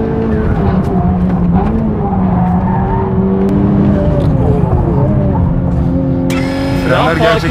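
A Honda Civic Type R revs hard around a race track, the engine climbing and dropping through gears in loud, close sweeps, with tires squealing briefly near the end and a voice speaking over it.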